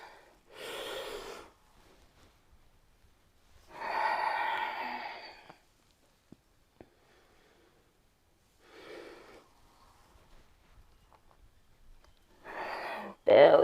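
Deep breathing during a vinyasa yoga session for runners, several slow audible inhales and exhales spaced a few seconds apart, close and moderately loud against near silence.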